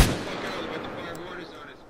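A single heavy mortar blast in ARMA 3, a sharp loud thump at the start that fades into a long rumbling tail, with faint distant battlefield noise behind it.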